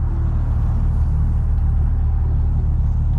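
A car's engine idles with a steady, loud low rumble at a car meet in Mexico, close and continuous throughout with no talk over it.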